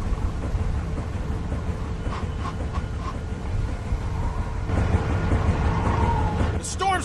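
A thunderstorm in The Walking Dead video game rumbles as a steady, low wash of wind and rain, with a few faint knocks and creaks, swelling slightly toward the end.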